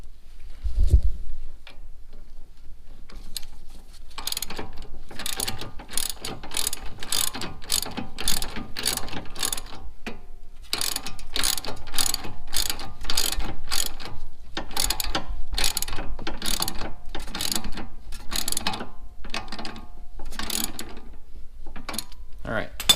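A ratchet tightening sway bar link nuts on a 2011 Chevy Equinox, after a brief knock comes a long run of quick, close clicking bursts with short pauses between strokes.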